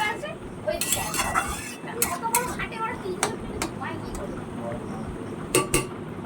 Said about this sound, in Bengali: এটাকে আমি ভালো করে এখন নাড়াচাড়া দিয়ে নেব।